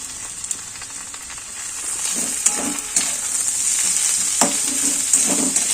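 Chopped onions and garlic sizzle steadily in a hot pan, with a bright hiss and scattered scraping knocks as they are stirred.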